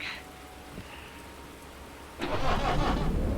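A locomotive engine in the train simulator Derail Valley cranks and catches at about two seconds, settling into a loud, steady rumbling idle after a quieter stretch of low background noise.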